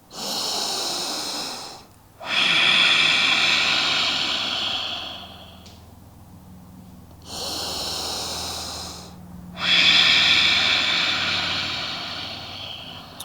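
Slow, deep breaths during a yoga class, two long airy exhales each followed by a quieter inhale, close to the microphone with no talking over them.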